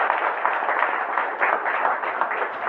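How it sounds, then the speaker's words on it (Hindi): An audience in a hall claps loudly and steadily, a dense wash of many hands sustained from start to finish with no pauses. "तो उनके लिए एक बार जोरदार ताली बजाते हैं।"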